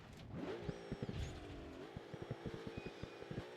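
A wrecked car's engine idles in the BeamNG.drive driving game, a low steady hum that sharpens into a short rev early on and then settles under a rapid string of ticking knocks.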